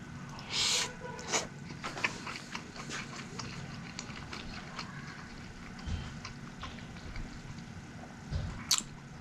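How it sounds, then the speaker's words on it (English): Close, soft chewing of a mouthful of spaghetti with feta cheese, with moist squishy bites and small clicks repeating over several seconds in a quiet room. "First bite, feta cheese pasta"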